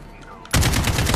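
Sudden loud burst of rapid automatic gunfire from an AK-47 in Call of Duty: Modern Warfare hardcore mode on the Shoothouse map, cutting in after a quiet moment and continuing as a dense, sustained volley.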